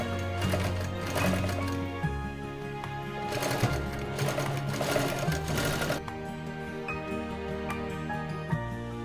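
An electric sewing machine stitches saree fabric for a purse, running in close, loud rapid bursts with short pauses and pitch shifts as the speed changes, with no talk over it.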